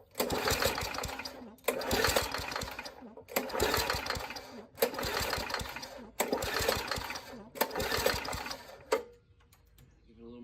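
Old Murray push mower with a 3.5hp Tecumseh engine cranking in repeated loud bursts, about six pulls or brief catches each lasting over a second with short gaps, then dropping to a quieter idle-like tail.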